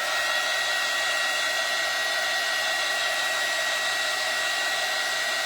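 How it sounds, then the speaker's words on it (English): A hair dryer blows on wet paint on a door hanger. It gives a loud, steady whooshing roar that holds unbroken throughout, with no talk. "just going to hit it just a little with the dryer"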